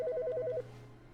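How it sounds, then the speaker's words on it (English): A telephone rings in the video game The Stanley Parable, a quick repeating electronic trill that plays briefly and stops, faint and alone over a low steady hum. "there's a phone ringing"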